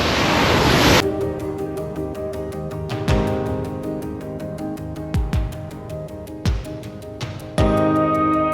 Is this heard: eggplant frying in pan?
no